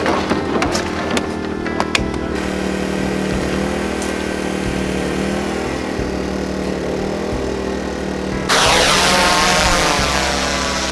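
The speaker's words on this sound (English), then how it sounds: "we're using the drone to find the deer with the thermal camera" A drone with a thermal camera flies over a 200-acre farm in Southern Ohio, giving a steady loud propeller whine that runs throughout and swells louder near the end.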